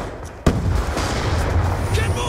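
Gunfire in Black Ops 2 multiplayer: a sharp close shot, then dense rumbling sustained fire and booms throughout, with voices faintly underneath.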